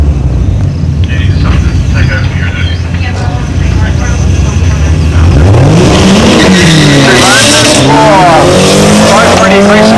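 Two V8 cars launch hard from a drag strip start line with aggressive clutch work and tyre spin, engines roaring and revving up loudly over the second half, with people talking over a constant crowd din.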